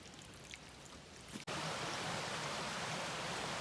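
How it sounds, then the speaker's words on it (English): A creek's water gurgles out from under rocks in Pisgah National Forest, a steady close rush of flowing water that jumps abruptly louder partway through and then holds a dense, constant wash. "that's where the water's coming back out"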